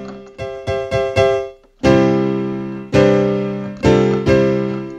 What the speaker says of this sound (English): here is the piano, the standard piano that comes up when it turns on, piano one